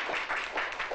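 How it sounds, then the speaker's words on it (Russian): A short burst of hand clapping from a group at a Soviet 1988 sambo school class as team placings are announced; brisk, dense applause that rises and dips over about a second with no voices. "Аплодисменты."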